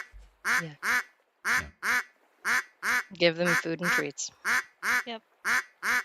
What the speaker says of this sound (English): That's the sound of a duck in a tin can.